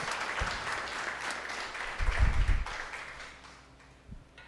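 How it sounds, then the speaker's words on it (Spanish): A church congregation applauds to welcome a woman attending for the first time, soft, somewhat distant clapping with a brief louder swell midway and a few low thumps near the end. "le damos la bienvenida, un aplauso de bienvenida"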